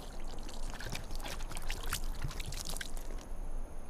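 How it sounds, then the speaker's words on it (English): Water splashed and poured onto a carved Nabatean stone inscription at Petra, a soft continuous trickling and splashing with faint droplet patters against steady outdoor background noise. "Here, let me splash some water."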